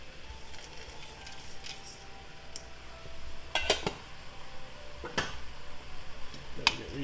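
Frozen corn being stirred into mushrooms cooking down in a pan, a soft steady sizzle with scraping and clinking of the spoon against the pan, sharper knocks near the middle and end.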